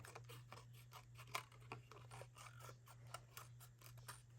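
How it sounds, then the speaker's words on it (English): Scissors snip repeatedly through card paper while trimming the edges of a handmade shaker card, a quick series of close, quiet cuts over a faint steady hum. "So we're going to just trim all that away."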